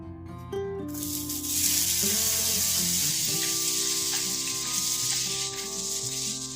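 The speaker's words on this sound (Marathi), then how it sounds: "तूप वितळल्यानंतर आपण पॅनमध्ये कट केलेले बटाटे टाकणार आहोत" Cut potatoes dropped into melted ghee in a hot pan, bursting into a loud, steady sizzle of frying that holds throughout, with faint clinks of the pan at the start.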